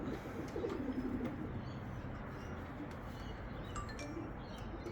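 Soft, low coos of racing pigeons returning home repeat in short phrases over a constant background hum, with faint chirps and clinks scattered through.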